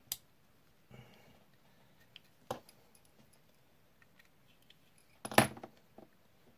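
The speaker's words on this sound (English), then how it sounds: "let's undo these screws and see how this is held together" Small screws being undone on an old Hornby R357 Class 31 model locomotive: a few isolated close clicks and scrapes of a screwdriver against metal and plastic, with quiet gaps between them and one louder clatter near the end.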